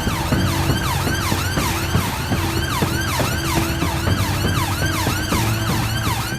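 An ambulance siren on blue lights wails in a continuous, loud, rapidly repeating rising-and-falling pattern with vehicle noise beneath, heard alone without talk.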